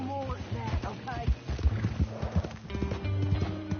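Hooves of a horse in the Red Dead video game clip-clop steadily at close range, with a neigh and other game sounds layered around them.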